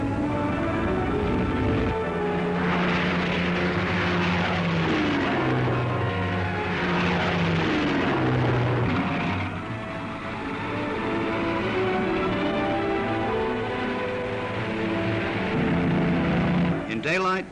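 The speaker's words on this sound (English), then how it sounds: "The drone of the multi-motored bombers roars to a crescendo." Multi-engined wartime bombers drone steadily and loudly throughout, a dense continuous roar with shifting engine tones and swelling intensity, under a narrator's voice.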